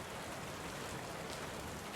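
Dense, steady rainfall in the video game Tavern Keeper, an even, broadband hiss of drops on surfaces with no pauses or other sounds.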